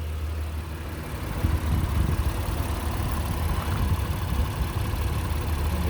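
A 2019 Honda Pilot EX-L sits idling, giving a steady low engine rumble that holds even and unbroken throughout, close by, with no talk over it.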